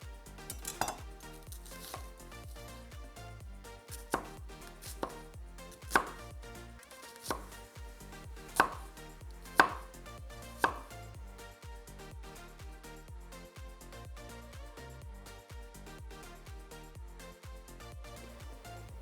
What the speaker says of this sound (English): I kept these 2 leaves on the cutting board because I'm going to use those too from the celery